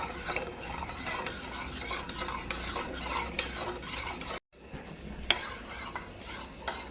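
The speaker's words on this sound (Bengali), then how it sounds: "এবার আমি এটাকে একটু মিক্স করে নিচ্ছি। চিনিগুলোকে পুরো গলিয়ে দেবো।" A spoon stirs sugar with lemon juice in a bowl until the sugar dissolves, making a continuous close gritty scraping and swirling that breaks off briefly and then resumes, with no one talking.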